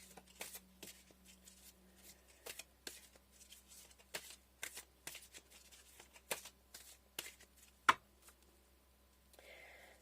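Tarot cards are shuffled for a reading, a run of quick, crisp riffling bursts and soft taps close by, irregular in rhythm over a quiet room, ending with one sharper slap.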